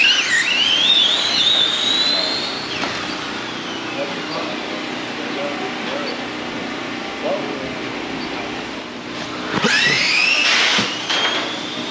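An RC drag racing car makes a run, its high-pitched motor whine rising and holding steady before a second sharp surge near the end, with voices talking over the track noise.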